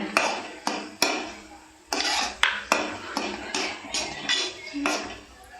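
A spoon scrapes and knocks against a pan while rava kesari, a semolina sweet with cardamom, is stirred until thick: about a dozen uneven strokes, each a sharp clatter and scrape, fairly close with no voices.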